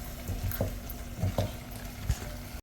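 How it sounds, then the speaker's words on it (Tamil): Sambal with sugar stirred in a pan: a few soft scraping strokes over a low sizzle, close up, with no talking. "ஸோ அதை நல்லா நீங்கள் கிளறி விட்டுக்க வேண்டியதான்."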